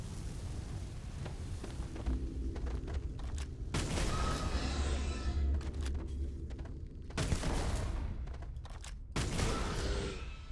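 Gunfire in the video game Starfield, where a fire-damage weapon lets off several loud bursts of booming shots with mechanical clanks between them, close up and with no talking.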